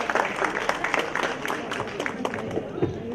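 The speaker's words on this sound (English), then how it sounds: "can we have a round of applause?" Scattered applause from guests at an academic convocation ceremony, individual claps distinct and uneven, with murmuring voices underneath.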